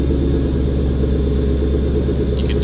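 A 2012 Ford Mustang Roush Stage 3 rated at 540 hp idles loudly and close by. Its exhaust gives a deep, steady rumble with an even throb that holds through the whole clip, and no one speaks.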